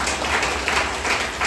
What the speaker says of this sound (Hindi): ये जोरदार तालियां सुनिए।